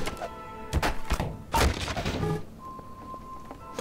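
Heavy crowbar blows landing on zombies in Garry's Mod, a few dull thuds and thwacks in quick succession up close, then fading into a quiet game hum.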